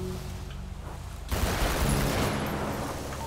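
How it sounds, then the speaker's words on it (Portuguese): A burst of gunfire in GTA 5 roleplay at an army base breaks out suddenly partway through, a dense rattling volley that stays loud after a quieter stretch of game ambience. "Deu os tiros."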